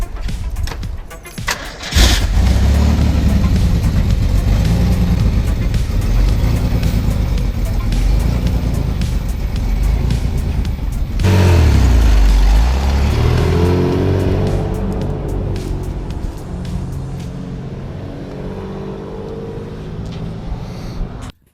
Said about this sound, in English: this is gonna be my first drive in the 88 GT